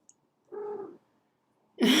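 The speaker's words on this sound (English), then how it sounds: "Every time I pick her up, she'll start purring because she loves to cuddle." Young female cat just over a year old, in heat, making short harmonic vocal sounds while being held: a brief murmur then a louder burst after a pause, close and alone with no talk.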